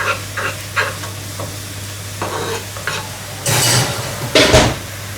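Orange sauce for duck simmers in a pan with a low steady bubbling sizzle, broken by a few scraping stirs and two louder bursts near the end, close and fairly loud.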